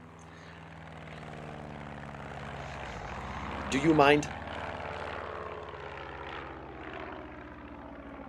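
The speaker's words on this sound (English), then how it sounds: "I don't like the planes. They're loud and obnoxious." Propeller airplanes drone overhead in a steady, loud rumble that swells briefly in the middle, while a person speaks over it.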